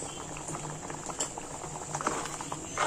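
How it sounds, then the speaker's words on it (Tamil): Goat trotter paya curry with coconut bubbles in a pot, a steady close simmer of small popping bubbles and liquid patter that continues throughout, with no talking. "நல்லா கொதிச்சிச்சுன்னா எம்மியான ஆட்டுக்கால் பாயா ரெடி ஆயிடுச்சுங்க."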